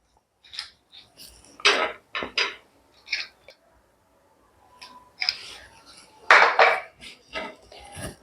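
A pan set aside after roasting spices for a lemon peel pickle, several sharp metallic clinks and scrapes of cookware in separate bursts, close and clear against quiet gaps.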